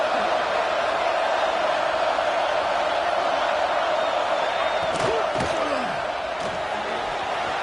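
Steady roar of a stadium crowd cheering at a Michigan vs Ole Miss college football game, a dense continuous wall of far-off voices with a few sharp whistles and shouts rising out of it.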